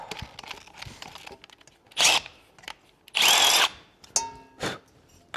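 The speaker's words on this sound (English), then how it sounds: "It is aluminum, so it's pretty easy to drill on." Short bursts of a power drill biting into aluminum, three or four loud whirring runs separated by pauses and small clinks, during repair of a 1953 Lincoln SA200 welder.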